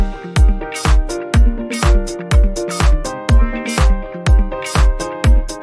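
Session keyboard player in Logic Pro playing block chords in steady eighth notes, a clean repeated keyboard chord pattern over low bass notes with regular accented beats, loud and alone with no talk.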